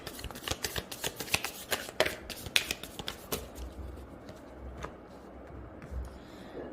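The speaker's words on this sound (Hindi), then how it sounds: "मैं एक लास्ट कार्ड आप लोगों के लिए निकालूंगी एज अ देखने के लिए कि कुछ चीज़ें छूटी तो नहीं है" A deck of tarot cards is shuffled in quick rapid riffles, then a card is drawn with softer slides and taps, close and crisp with no talking.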